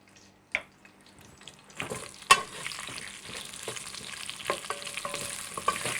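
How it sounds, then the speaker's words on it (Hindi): Potatoes frying in a pan in a home kitchen, a quiet hiss that swells after a couple of seconds, with scattered clinks and a sharp utensil knock near the middle, steady and close. "आलूओं को हम फ्राई कर लेते हैं।"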